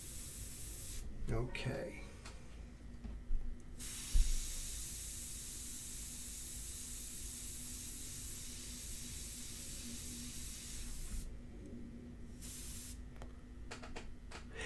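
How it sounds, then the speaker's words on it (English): An airbrush sprays ink onto a portrait painting with a steady, fairly quiet hiss lasting most of the time, breaking off briefly twice; a short spoken word and a couple of small knocks come in near the start. "always when you're airbrushing"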